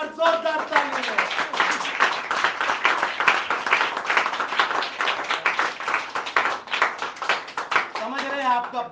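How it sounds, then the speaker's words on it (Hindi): A church congregation at a Hindi-language sermon gives loud, fast clapping for Jesus, sharp claps in a rapid stream, with voices heard briefly at the start and end. "यीशु के लिए एक बार जोरदार तालियां"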